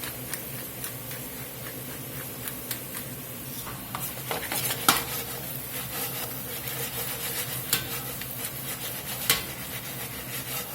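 Meat and potatoes with Cajun seasoning fry in a pan under a soft constant sizzle, while a utensil stirs and scrapes across them with irregular close clacks and rubs, and no one speaks.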